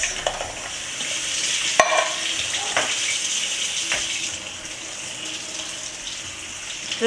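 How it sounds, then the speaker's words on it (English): Canned chickpeas rinsed and drained under running water, a steady hiss of flowing water with splashing, sharp metallic knocks and rattles from the can, close and without speech. "Just give it a good rinse,"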